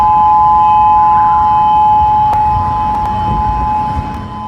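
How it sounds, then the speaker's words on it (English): Emergency tsunami warning sirens sounding across Honolulu, Hawaii, a loud steady wailing tone held continuously over a rumbling outdoor background with a few faint clicks. "that's the sound of the emergency sirens in Honolulu going off at this hour"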